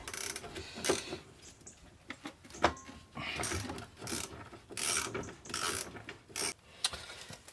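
Ratchet wrench snugging the wheel hub bolts on a Mercedes 190E, bursts of rapid clicking pawl ratcheting in short irregular strokes, close and clear with small pauses between pulls.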